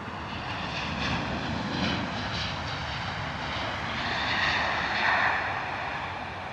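An aircraft engine at London Heathrow Airport gives a steady, broad roar at moderate distance, swelling slightly toward the end, with no talking.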